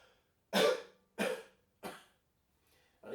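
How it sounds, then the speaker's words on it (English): Three separate coughs come at roughly even intervals, each a sharp, breathy burst that fades quickly, followed by the start of a fourth. They are close and moderately loud with silence between them. "So I'd like you to cough with me 3 times."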